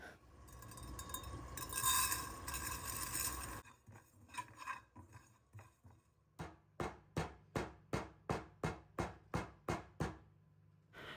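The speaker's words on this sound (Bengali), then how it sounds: "ছেঁচনি দিয়ে ভাজা জিরাটাকে গুঁড়া করে নিলাম" Fried cumin is pounded with a pestle, about a dozen sharp, evenly spaced crushing knocks in a steady rhythm, following a stretch of louder rustling and frying-like noise.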